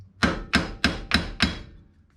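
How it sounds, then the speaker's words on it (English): Five sharp metallic hammer blows on a bolt head during Jeep Wrangler JK axle U-joint replacement, evenly spaced and close, each ringing briefly before the next strike. "So with the hammer, I hit directly onto the head of the bolt."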